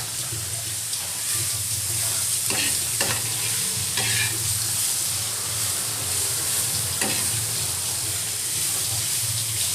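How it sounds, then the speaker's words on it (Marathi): Onions fry in oil on low heat as they are stirred, a continuous close sizzle broken by a few scraping strokes of the spoon, with faint running water behind. "5 ते 6 कांदे घ्यायचे आणि ते भाजत टाकायचे. स्लो गॅसवर 20 मिनटं भाजू दे."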